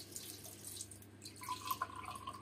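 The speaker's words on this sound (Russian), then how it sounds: "Вот такой напор холодной воды." Cold water runs steadily from a household tap, a soft continuous flow with faint splashing into a sink, quiet and alone with no talk.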